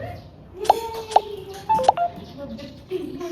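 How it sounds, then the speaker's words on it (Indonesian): A mobile phone sounds off with a run of sharp electronic beeps and tones in short bursts, loud and close, with a few pauses between them. "Aduh, HP kamu berisik banget sih, Nar."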